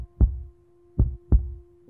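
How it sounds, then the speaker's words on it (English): A heartbeat in a slow iambic rhythm: three soft, low thumps spaced unevenly, close and clear over a faint steady hum, with no voices. "An example of this unique rhythm would be a heartbeat."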